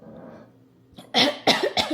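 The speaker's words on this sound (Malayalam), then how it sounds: "ചുമയോ തുമ്മലോ എന്തൊക്കെയോ വരുന്നു" Three sharp, loud coughs in quick succession, close up, brought on by chilli fumes in a kitchen, after a stretch of quiet background murmur.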